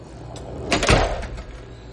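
A repaired door with a straightened, previously bent lock part swings shut with a single soft thud and brief rattle, heard close by in a quiet room.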